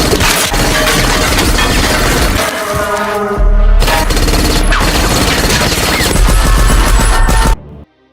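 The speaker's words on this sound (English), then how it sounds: "Just as he was about to arrest Brian, Gonzalez's girlfriend appeared with her submachine gun, forcing both of them to take cover" Submachine gun fire in an action film scene, dense rapid bursts mixed with shattering and crashing debris, loud and continuous for several seconds before cutting off abruptly, with no voices heard.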